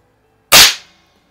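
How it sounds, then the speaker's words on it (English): A single air rifle shot fired outdoors: one sharp, loud crack close by, with a short fading tail after it and silence on either side. "I'm just going to shoot one shot"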